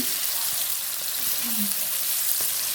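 Cooking oil sizzles steadily in a pan at the start of a chicken korma, a dense, continuous frying hiss with faint clinks.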